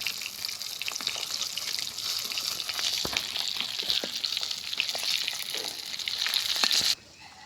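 Fish fries in hot oil with a bright, continuous crackling sizzle and scattered pops, close and steady, cutting off abruptly near the end.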